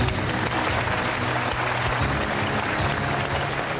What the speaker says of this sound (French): Je vous demande d'applaudir notre troisième invité